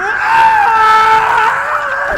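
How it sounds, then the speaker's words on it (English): Grendel's shriek from the film Beowulf, voiced by Crispin Glover: a loud, sustained, wavering high scream held for about two seconds, alone. "Crispin Glover makes Grendel genuinely upsetting. The shriek is horrific."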